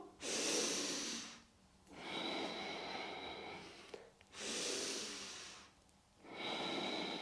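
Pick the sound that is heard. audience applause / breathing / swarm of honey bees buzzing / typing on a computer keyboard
breathing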